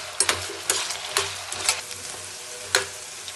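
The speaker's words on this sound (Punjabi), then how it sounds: "ਹੁਣ ਆਲੂਆਂ ਨੂੰ ਨਾ ਆਪਾਂ ਇਹਦੇ ਵਿੱਚ ਨਾ ਥੋੜਾ ਜਿਹਾ ਬਰਾਊਨ ਹੋਣ ਤੱਕ ਪਕਾ ਲਾਂਗੇ" Potato pieces fry in a pan for a dhaba-style aloo capsicum sabzi, cooking until lightly browned. A steady sizzle runs under sharp, repeated scrapes and clacks from stirring, close by.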